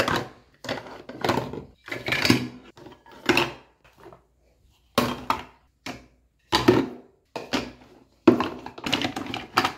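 Small pots and pans are packed into a box during a house move, producing close, intermittent clattering and clinking bursts of metal and cardboard, separated by short pauses.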